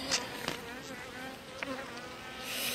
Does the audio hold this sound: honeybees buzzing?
yes